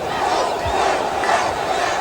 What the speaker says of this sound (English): You can hear the crowd in the background shouting, encouraging the Springboks.